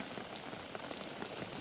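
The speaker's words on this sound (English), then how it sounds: "As you can tell by the sound of this, the rain's finally come" Steady rain patters on a beach at night during a smooth hound fishing session on the Solent, a dense, close hiss of drops with no voices.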